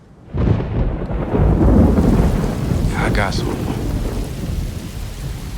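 A heavy thunderstorm with a loud rolling thunder rumble and steady pouring rain close by, a voice briefly speaking over it.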